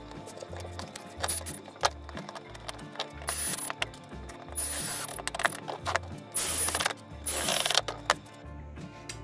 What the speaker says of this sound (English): I'm gonna screw that down, screw the mount in